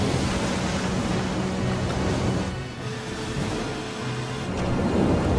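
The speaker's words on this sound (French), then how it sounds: "On aurait dit le tonnerre!" Deep, continuous rumbling roar that swells and ebbs without pause, like rolling thunder blended with a heavy wash of noise; no voices.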